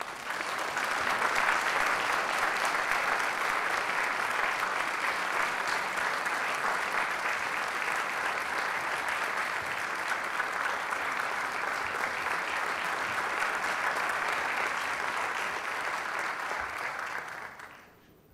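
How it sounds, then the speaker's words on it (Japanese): An indoor audience applauds continuously for a Ukrainian bandura performer at a prefectural assembly concert, a dense, even clapping that lasts about seventeen seconds before stopping abruptly. "皆様拍手でお迎えください。"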